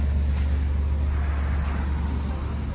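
Steady, loud low engine rumble and road roar from a 500hp Alfa Romeo Giulia Quadrifoglio fitted with EBC Yellow Stuff brake pads and Goodyear Eagle F1 tyres, pulling away and driving on without talk.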